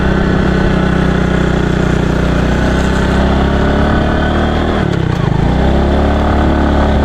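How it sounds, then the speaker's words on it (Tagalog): A motorcycle engine labors as it climbs an uphill road toward a campsite near San Roque Dam, a steady, loud, close drone that dips and strains briefly near the end. "Parang inaakyat, parang hirap pa rin yung motor ko ah."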